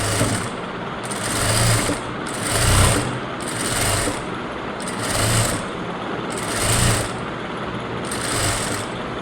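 A sewing machine stitches a blouse hem, running in repeated whirring bursts about a second long with brief gaps between them, close and steady.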